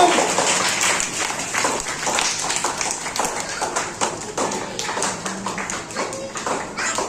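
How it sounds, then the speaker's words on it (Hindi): Applause from a gathered audience at a Teachers' Day celebration, welcoming a teacher on stage; a steady patter of many hands clapping at moderate distance, continuous for several seconds with slight swells and a faint voice underneath. "तालियों के साथ स्वागत करें"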